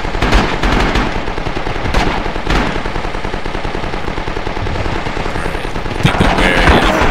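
Machine gun firing in the Rising Storm video game, a loud, continuous rapid stream of shots with no letup, swelling slightly near the end.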